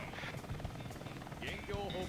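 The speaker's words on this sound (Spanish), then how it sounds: "Ok, helicópteros." A helicopter's rotor in Sonic Adventure 2 Battle thrums steadily in the background while a person talks over it, with scattered game effects layered on top.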